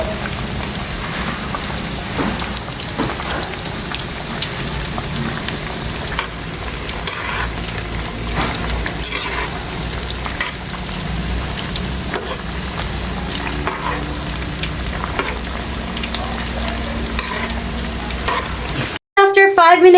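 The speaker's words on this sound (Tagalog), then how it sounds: "lulutuin muna natin siya sa mantika" Pieces of breadfruit fry in hot cooking oil, a loud, continuous close sizzle with a rain-like crackle that runs nearly unbroken before a brief cut at the end.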